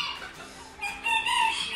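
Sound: Splash hens and Lindis rooster clucking

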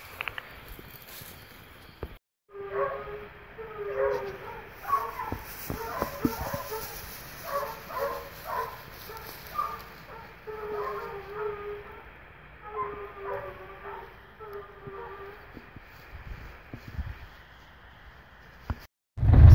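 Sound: hunting dogs barking on wild boar trail

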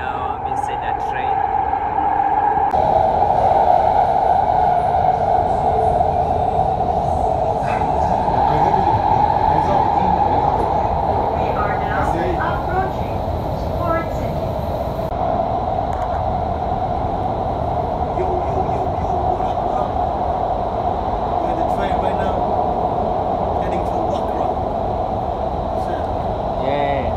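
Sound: riding inside a train

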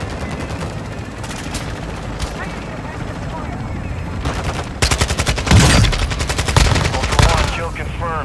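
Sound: gunfire in a shooter video game

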